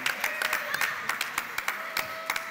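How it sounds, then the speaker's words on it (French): Graduation-ceremony audience at the Grand Rex clapping in a steady scatter of sharp claps, moderately loud and fairly close, with background chatter underneath. "Applaudissez."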